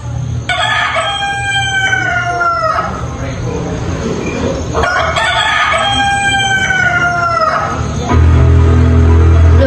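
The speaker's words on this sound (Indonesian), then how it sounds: "Suara ayam berkokok terdengar sangat aneh dan keras." A rooster crows loudly twice in long, strained cock-a-doodle-doo calls, close by, with a lower background rumble that grows stronger at the end.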